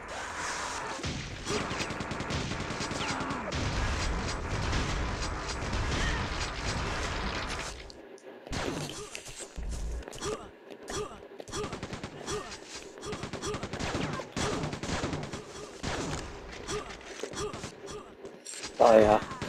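Rapid weapon fire from a railgun and other guns in a Quake II PS5 remaster team deathmatch, with dense repeated shots and bursts throughout, a short lull near the middle, and voices talking over the action.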